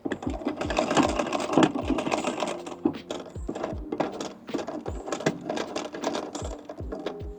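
A vintage foot-treadle sewing machine stitches fabric at a waistband overlap, a steady clattering of rapid needle ticks with rhythmic low thumps from the treadle, close and alone.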